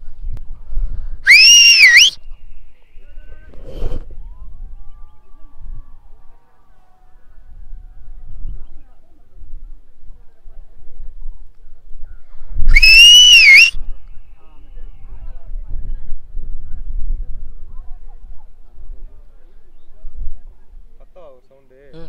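A person on a hilltop at Rammakkalmedu gives two loud, close, wavering whistles about ten seconds apart, with low wind rumble and faint movement noise filling the long gap between them.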